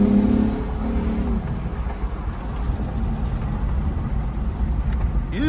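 A 2014 Lexus IS 250 F Sport being driven, with a steady low engine and road drone inside the cabin, a brief engine swell at the start, continuous and moderately loud with no talking.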